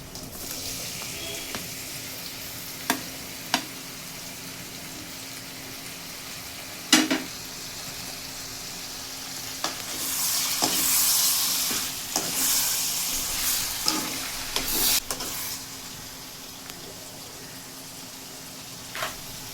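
Crushed garlic and tomatoes sauté in a pan for tomato rice, giving a low, steady sizzle broken by sharp spoon clinks against the pan and a louder hissing surge midway, heard close with no talking.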